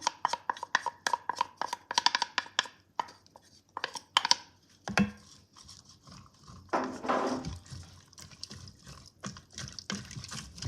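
Cut garlic, onion and celery tumbling into an Instant Pot, a run of quick close knocks and taps at the start, then scattered thuds and a brief rustling scrape, fairly quiet with no talk.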